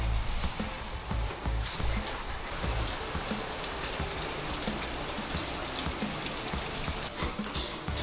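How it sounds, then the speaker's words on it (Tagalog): Steady rain falls and drips outside a home, a continuous soft hiss with scattered close drops tapping a surface, even in level throughout and with no voices. "Patigilin lang po natin ulan."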